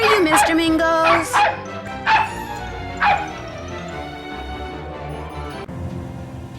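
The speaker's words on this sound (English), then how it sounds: "That dog is in here somewhere." A small dog named Mr. Mingles barks and yips several times in quick bursts in the Nancy Drew video game, then falls quiet as a low background hum remains.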